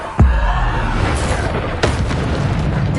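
A Bombarda spell goes off in the video game Hogwarts Legacy with a sudden deep boom, followed by a rolling rumble and a second sharper burst a moment later.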